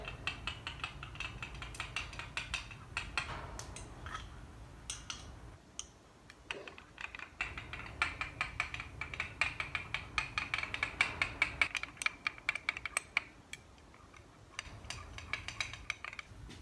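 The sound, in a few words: stirring soft plastic bait mixture with a knife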